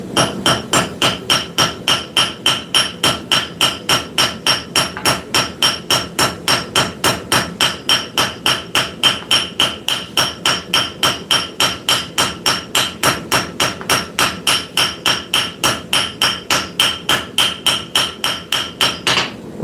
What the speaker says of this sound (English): we're going to put some texture in the handle. I'm going to use the cross peen,